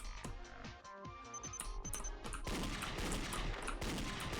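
Gunfire in the video game Danganronpa Another, sharp close shots cracking out over a background music track, followed by a denser, louder blast of noise filling the final couple of seconds.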